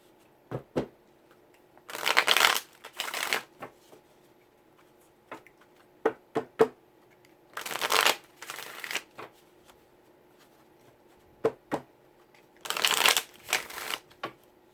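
Stiff tarot cards shuffled in three riffled bursts, each a brief crisp flurry, separated by scattered taps and clicks of cards being handled, close and fairly quiet.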